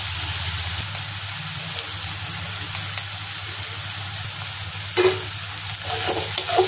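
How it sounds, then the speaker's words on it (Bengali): Dry fish with salt, turmeric and chilli powder stirred in a hot pan, a steady frying sizzle with scraping spoon strokes near the end, no talking. "ভালো করে নাড়াচাড়া করে একটু জল দিয়ে দেব।"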